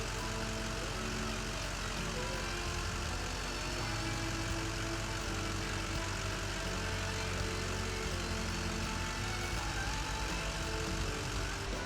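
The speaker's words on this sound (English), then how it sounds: "Power your gauge to ensure that everything is working properly by starting the vehicle." The diesel engine of a 2000-2006 Duramax truck runs steadily, a constant, even rumble that fills the whole stretch with no breaks or changes in pace.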